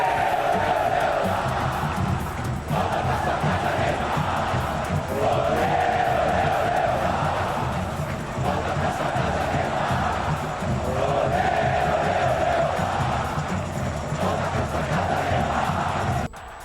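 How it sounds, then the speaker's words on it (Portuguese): Torcida Jovem, Santos' organized supporters, chanting a song calling for Neymar's return, a large crowd singing in rhythmic repeating phrases with loud cheering throughout. "a torcida jovem, que é a principal torcida organizada do Santos, criou uma música para pedir a volta do craque"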